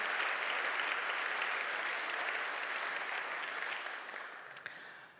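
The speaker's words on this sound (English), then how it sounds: "Please give them a warm" Steady audience applause at an SAP keynote, a dense wash of many hands clapping, holding strong before gradually thinning and fading toward the end.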